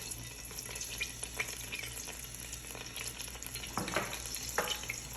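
Garlic frying in olive oil crackles with a soft, steady sizzle, fairly quiet and close, with a low hum underneath and a couple of brief stirring scrapes toward the end.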